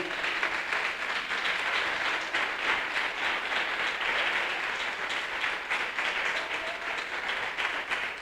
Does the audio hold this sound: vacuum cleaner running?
no